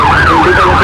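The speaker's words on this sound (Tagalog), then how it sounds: "Umalingaw ang mga sirena ng ambulansya sa Makati City kanina" Ambulance siren wailing in Makati City, a loud, close sweeping tone rising and falling steadily with road traffic rumbling beneath.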